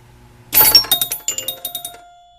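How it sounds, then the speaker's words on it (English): Chime bells in a 1977 Bally Eight Ball pinball machine struck by solenoids, ringing loud and close as a quick run of about a dozen bright, ringing hits with lingering tones. "the sound down here is run by a bunch of little solenoid packs that are hitting bells"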